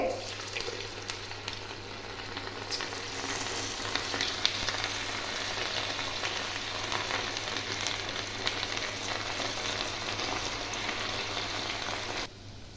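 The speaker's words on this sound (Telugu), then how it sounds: "ఆయిల్ అయితే హీట్ అయిందండి. ఇప్పుడు సన్నగా ఒక్కొక్కటిగా వేసుకోవాలి." Small punugulu made from idli batter fry in hot oil over a medium flame, a dense, steady sizzle that holds close and continuous before cutting off near the end.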